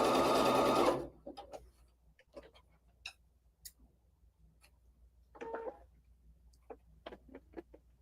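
Sewing machine stitching small fabric pieces for a table runner: a close, rapid burst of stitching for about a second, then stops, followed by scattered faint clicks and handling taps.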